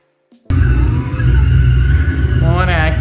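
A custom modified car's engine bursts to life after near silence and roars loudly and continuously under acceleration, a thick, rumbling blare that holds to the end.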